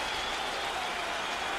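A big baseball stadium crowd applauds a starting pitcher leaving the mound in a steady, dense wash of clapping and distant cheering that holds level from start to finish.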